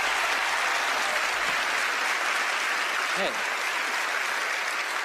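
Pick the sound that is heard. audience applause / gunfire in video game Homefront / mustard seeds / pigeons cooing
audience applause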